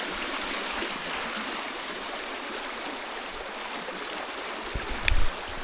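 A river rushes steadily near a former waterfall site, a broad continuous wash of flowing water with a brief low thump near the end.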